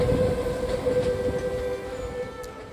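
Night train rolling toward Hue, Vietnam, a steady close rumble of the carriage with a sustained mid tone, continuous and fairly loud with no talk.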